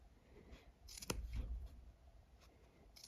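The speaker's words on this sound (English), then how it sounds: "just snip it." Scissors snipping a folded strip of felt for a felt flower, one crisp close cut in a quiet room, with faint rustling of the fabric just after.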